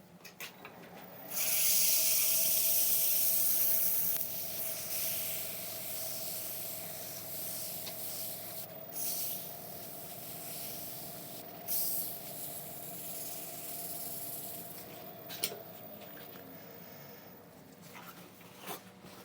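A wood lathe spins a London plane woodturning while abrasive paste is rubbed into it, giving a steady low motor hum with a loud hissing rub near the start and fainter scuffs later.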